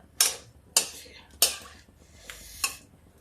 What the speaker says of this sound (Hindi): ये जब तक हमारा खोया इसमें मेल्ट नहीं हो जाता, हम चलाते रहेंगे इसको